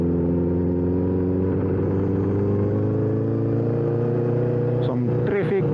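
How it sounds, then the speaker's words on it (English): Steady engine drone from a 2009 Honda CBR1000RR Fireblade ridden through road traffic, with another vehicle's rushing noise briefly swelling past near the end. "Some traffic."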